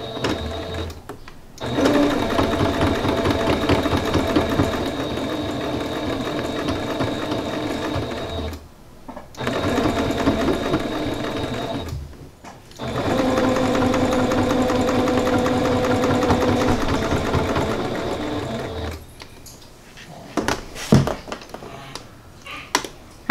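Sewing machine stitching through a towel apron, running in long steady whirring bursts separated by brief stops, loud and close, with a few clicks at the end.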